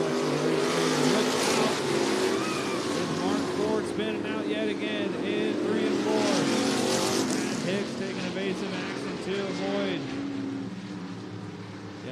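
Race cars lapping the Cottage Grove Speedway dirt oval in Oregon, their engines a loud continuous roar that rises and swells as they pass, with a track announcer talking over it.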